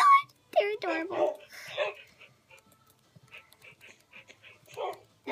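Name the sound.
puppies barking and whimpering in a Minecraft video game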